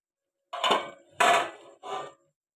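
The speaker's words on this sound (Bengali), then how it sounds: "এবার চাপাটা আমি খুলব দেখি আলুটা কেমন সেদ্ধ হয়েছে" A metal pot lid is lifted and shifted on a pot of boiling potatoes in a home kitchen, giving three close, clattering metallic bursts with short pauses between them and no talk.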